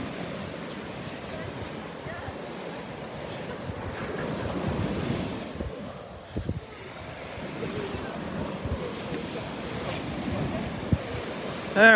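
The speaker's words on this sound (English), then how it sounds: "it is rough out there. Big swells out in the Gulf today." Rough surf from big Gulf of Mexico swells rolls onto the beach at Delnor-Wiggins with a continuous, close roar. Steady wind buffets the microphone over it.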